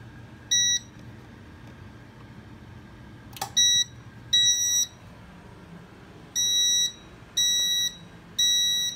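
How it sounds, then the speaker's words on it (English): Electronic beeps from a Simplex fire alarm panel with a 2901-9806 module, short high-pitched tones repeating in bursts with a brief click from the module partway through, over a low background hum. "The panel's going to beep, so here we go."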